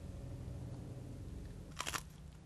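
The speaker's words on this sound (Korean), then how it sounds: "느낌을 살려 다시 한번 씹는 소리를 연기해 본다" A foley artist performs a chewing sound: after a stretch of quiet room hum, a single brief, crisp crunching burst rises close to the microphone, then fades away.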